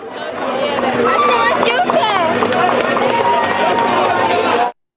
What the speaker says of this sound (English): Just listen to this crowd of Muslims cheer as we are arrested based off Roger's false accusations